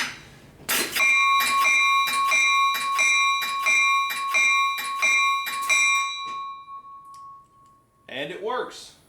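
A reassembled locomotive bell, tightened on its bipod, rings about a dozen times in a steady loud rhythm, each clang leaving a sustained metallic tone, before a short burst of other sound at the end.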